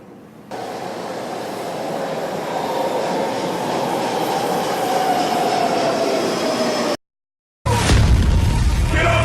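A train rolls along the rails with a steady loud rumble and faint squealing, briefly cutting out before the noise resumes louder.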